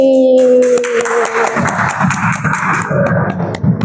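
Students in a classroom clap for classmates who have just presented, a dense patter of hand claps rising after a brief opening tone and continuing steadily to the end.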